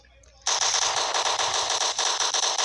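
Rapid automatic gunfire in a zombie shooting video game bursts in suddenly and keeps rattling loudly and continuously for a couple of seconds, with no talk.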